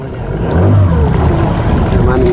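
A motorboat crossing the flooded Lake Baringo, loud low engine drone and water wash close by with a rising whine, voices faintly mixed in.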